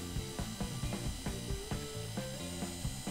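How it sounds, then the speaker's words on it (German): A homemade washing machine running in Scrap Mechanic, a steady rhythmic ratcheting and clacking of wooden and mechanical parts turning, close and continuous with a regular beat. "Und da arbeitet die Waschmaschine."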